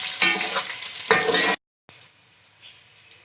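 Whole garam masala (star anise, black and green cardamom, a bay leaf, black peppercorns and cloves) sizzles in hot oil in a pan, with close scraping stirs in two short bursts around a brief silence.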